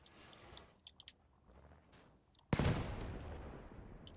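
A sudden loud blast of explosives detonating in the Crossout vehicle combat game at about two and a half seconds, leaving a long rumbling tail, preceded by quiet ambient sound with a few faint clicks.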